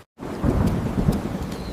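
Heavy monsoon rain pours steadily on a flooded street in Raipur, a dense loud broadband hiss with low thunder rumbling beneath, starting abruptly after a brief silence and continuing without speech.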